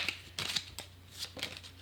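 Tarot cards riffle and slap together in a few quick bursts of shuffling, close and fairly quiet, with no talk over them.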